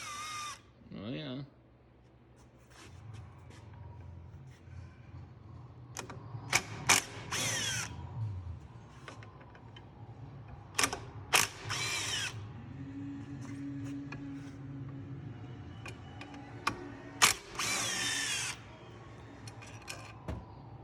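A power drill ratchets and whirs in short bursts while backing out clutch cover bolts during a Bikeman Performance Stage 2 clutch kit install, with people talking quietly between the bursts.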